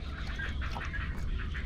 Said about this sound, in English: including this island where there were a bunch of birds